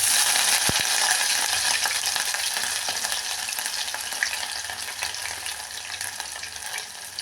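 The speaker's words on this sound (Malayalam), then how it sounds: "കടുക് പൊട്ടി നമുക്ക് ഇഞ്ചി ചതച്ചതിടാം" Crushed ginger frying in hot oil with popped mustard seeds for a Kerala anchovy curry, a steady close sizzle and crackle with a sharp tap near the start, fading slightly as it goes on.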